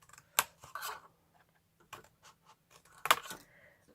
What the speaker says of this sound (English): we need to cut all these away and cut the score line away as well